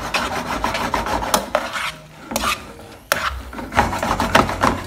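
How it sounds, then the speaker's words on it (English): Spaghetti carbonara with an egg and cheese mixture tossed vigorously in a pan, giving repeated rough scraping and rubbing bursts with brief pauses, close and fairly loud. "And you just want to vigorously toss."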